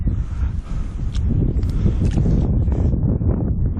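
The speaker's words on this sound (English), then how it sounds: "The wind's coming from sort of behind me." Wind blowing across a lake during evening fishing for redfin perch at Waranga Basin: a loud, low, buffeting rush against the microphone, steady throughout, with faint knocks and rustles in between.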